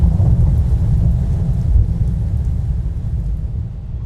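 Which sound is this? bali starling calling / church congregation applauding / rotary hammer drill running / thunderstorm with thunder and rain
thunderstorm with thunder and rain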